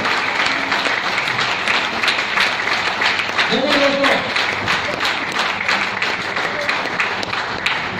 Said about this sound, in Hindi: जोरदार तालियां आपको मिलना चाहिए, जोरदार तालियां होनी चाहिए